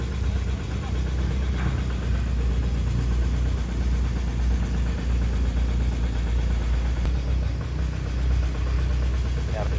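A motorcycle engine strains and loses power while climbing at an excavation site in Puncak Kayu Duo, a steady low rumble with rough vibration running throughout, mixed with background voices.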